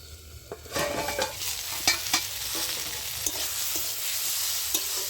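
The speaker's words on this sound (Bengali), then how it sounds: "বেগুনটা আস্তে আস্তে ভাজা হতে থাক।" Sliced eggplant with turmeric and salt fries in a pan covered with a lid, giving a close, soft sizzle broken by several sharp scraping stirs and clinks.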